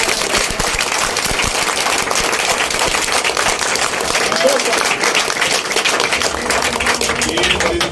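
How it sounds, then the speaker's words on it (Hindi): An outdoor crowd at a political rally on a constitution march claps loudly, a dense crackling stream of many hands with cheering and voices mixed in throughout. "मैं तो चाहूंगा कि एक बार जोरदार अपने लिए भी तालियां बजा लो"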